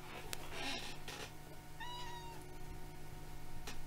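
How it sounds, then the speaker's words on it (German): A house cat gives a single clear meow midway, close and fairly soft, against a quiet indoor background with faint clicks and a steady hum. "Hi, Katze."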